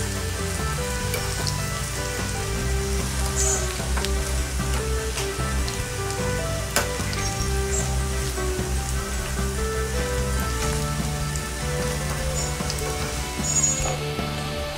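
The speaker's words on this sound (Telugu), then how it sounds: "ఇలా అటు ఇటు తిప్పుకుంటూ ఫ్రై చేసుకుందాం." Cauliflower pieces for gobi 65 deep-frying in hot oil on a stove at medium flame: a steady, dense sizzle and crackle runs throughout, close and fairly loud, with no voices.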